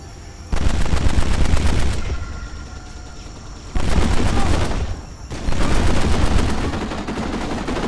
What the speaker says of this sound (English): How do they not hear those gunshots go off?